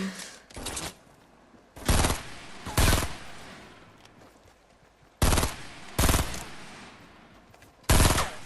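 Bursts of automatic gunfire in the video game Fortnite, several loud rapid volleys of a few shots each, separated by short gaps, with no talk over them.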